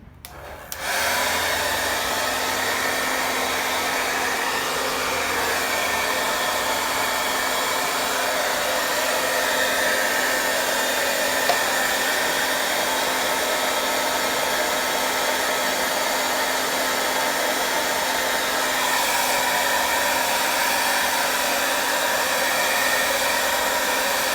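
A hair dryer blows steadily to dry wet paint on a wave painting, a loud continuous whirring hum with a faint tonal whine, starting abruptly and running without pause for over twenty seconds, no talking.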